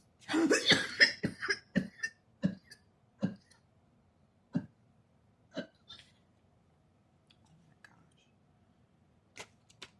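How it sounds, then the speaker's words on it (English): A hard burst of rapid coughs up close, tapering into scattered single coughs separated by quiet pauses. "I just cough so hard."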